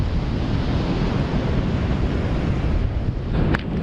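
Surf and wind along the Pacific Ocean shore on a dreary day, a steady broadband wash of waves with rough wind buffeting the microphone, loud and continuous with no voices.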